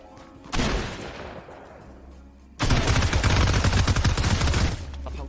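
Two bursts of gunfire in Fortnite: a short volley that trails off, then after a brief pause a longer, dense stretch of rapid automatic shots, loud and close.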